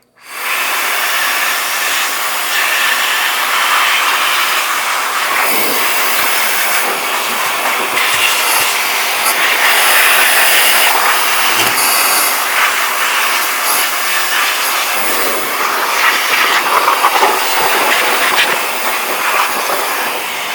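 A TriPole cordless electric air duster rated at 83000 RPM blasts dust out of a fan, producing a loud, continuous, close rushing hiss that starts abruptly and holds for about twenty seconds with slight fluctuations, no voices.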